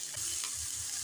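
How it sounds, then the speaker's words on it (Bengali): Chopped cauliflower stirred and fried with onion in a pan, a faint continuous sizzling hiss with a couple of soft stirring scrapes, close but low in level, no talk. "এরপর ফুলকপিটাকে 1-2 মিনিট সময় ধরে ভালো করে নেড়েচেড়ে নিচ্ছি।"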